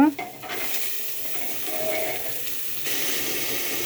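Avarekai field beans drop into a sizzling pan for avarekai kurma and get stirred, an initial clatter followed by a steady close frying hiss with light scraping throughout.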